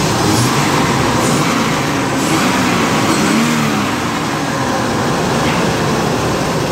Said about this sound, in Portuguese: Marcha lenta mantendo.